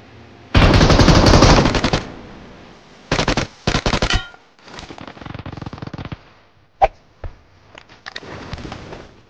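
Gunfire in PUBG Mobile, a loud sustained automatic burst, then shorter rapid volleys and single sharp shots with quieter distant bursts in between.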